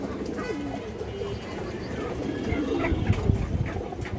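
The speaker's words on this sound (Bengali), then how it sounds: "মাশাআল্লাহ অনেক সুন্দর একটা সাপচিলা নর কৌতার" A male Sapchila pigeon coos in a loft among other pigeons, steady low cooing running through the clip with background bird activity and some human voice mixed in.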